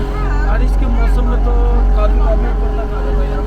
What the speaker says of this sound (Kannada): ದೋಣಿ ಹೊರಟಿದೆ